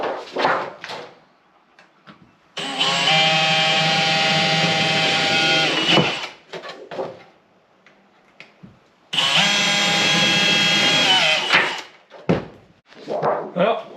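A power drill bores holes through plastic labels in two sustained loud whirring bursts, each about three seconds, separated by handling clatter and brief talk.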